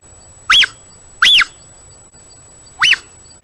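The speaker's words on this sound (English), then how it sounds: "places where I can actually hear some chirping" Three clear, sharp bird chirps ring out alone, two close together and a third after a short pause, against a quiet background.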